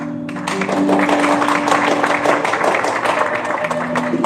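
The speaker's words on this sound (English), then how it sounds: "Can we have a heartier Pan-African applause?" Dense applause fills the hall at the Pan-African Pyramid Awards ceremony, a continuous wash of many hands clapping that starts abruptly and holds steady, with faint sustained tones and some voices beneath it.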